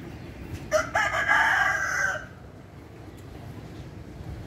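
A rooster crows once, loud and clear, amid a yard of many chickens of different breeds kept at a home, followed by quieter background clucking and ambient farm noise.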